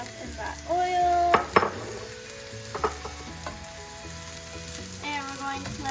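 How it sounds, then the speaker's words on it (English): Mushrooms sizzling in oil in a pan for a stir fry as they are stirred, with steady frying hiss broken by sharp utensil scrapes and clinks against the pan, up close and without speech. "So now we're going to take our mushrooms and get those all mixed up in that oil."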